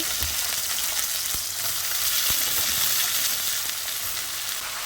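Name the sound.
vegetable frying with onions in oil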